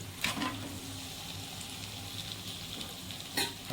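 Mutton sizzles and fries with browned onions in a pan, a steady close hiss with a few brief clatters of stirring.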